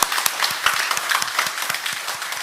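Brisk rhythmic clapping from a church congregation during a Sunday worship service, a close, steady patter of many hands together with no talk over it.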